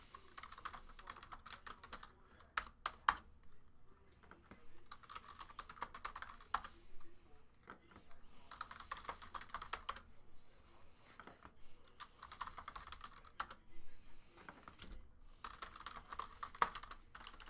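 Steady computer keyboard typing comes in bursts of quick clicks with short pauses between, fairly quiet and close, with no talking over it.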